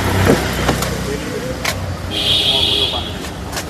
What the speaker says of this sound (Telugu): 4 పవర్ విండోస్ కూడా వర్కింగ్లో అయితే ఉన్నాయండి.